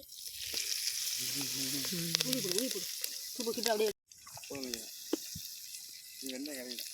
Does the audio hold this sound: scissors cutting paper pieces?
no